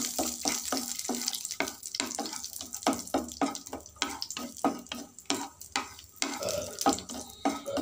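Cashews fry in ghee for halwa with steady sizzling, broken by repeated stirring and scraping strokes in the pan, sounding close and fairly loud.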